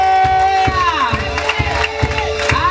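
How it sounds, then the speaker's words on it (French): A church seminar congregation cheers and acclaims, with loud sustained voices and ringing tones over rhythmic beats, close and full. "Je vais entendre des acclamations pour le roi des rois."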